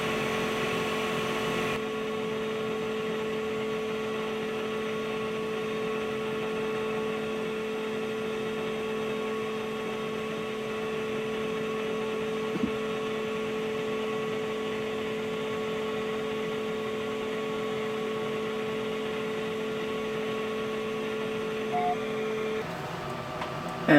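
A Wainlux L6 laser cutter works through 8 mm thick pine in one pass at full power, giving a steady mechanical hum with tonal whine and fan noise, constant and moderately loud.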